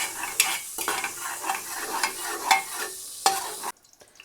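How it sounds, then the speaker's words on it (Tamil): Bay leaf and cinnamon stick stirred and sautéing in hot oil and ghee for mutton biryani, a steady close sizzle broken by several sharp spoon scrapes against the pan, with no voices. "இலையும் பட்டையும் அதில் ஆட் பண்ணிக்கோங்க. ஆட் பண்ணி நல்ல நம்ம பொன்னிறம் ஆகிற வரைக்கும் நல்லா ஒரு வதக்கிக்கோங்க."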